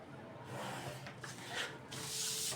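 Pen or marker scraping along a paper sewing pattern for a blouse, a few quiet rasping strokes in quick succession, close and faint, with no talking.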